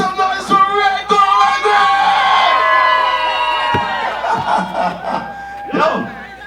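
Festival crowd at a sound festival final round yelling and cheering loudly, with repeated sharp shouts rising out of a dense roar of voices.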